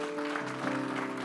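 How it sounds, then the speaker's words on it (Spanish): A church congregation gives a strong round of applause during a worship service, continuous crowd clapping over a steady sustained musical tone. "¿Cuántos pueden darle un fuerte aplauso al Señor?"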